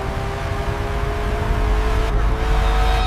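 Lamborghini Temerario sports coupe, a 907-horsepower hybrid revving to 10,000 RPM, gives a steady droning engine note. The sound runs loud and continuous throughout.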